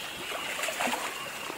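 River water flows and trickles softly nearby, a faint continuous wash with light splashy bits, alone without voices.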